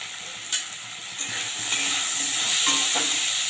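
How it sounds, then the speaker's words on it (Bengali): Salted potatoes fry over low-to-medium heat in a pan, a steady sizzle broken by a few scraping stirs and light clinks, close and moderately loud with no voices. "এবারে লো টু মিডিয়ামে করে আমি আলুটাকে ভালো করে কষিয়ে নেব যতক্ষণ না সিদ্ধ হচ্ছে"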